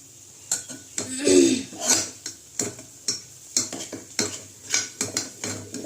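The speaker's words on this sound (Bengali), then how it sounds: "এবার ডালটাকে আমি হাতা দিয়ে ভালো করে একটুখানি ঘেটে নেব এইভাবে ভালো করে ঘেটে নেব একটু" A ladle stirs masoor lentil dal in a pot, giving repeated scraping and clinking strokes at a steady rhythm, fairly close, with a faint sizzle underneath.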